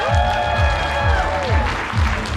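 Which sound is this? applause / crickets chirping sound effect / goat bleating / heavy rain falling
applause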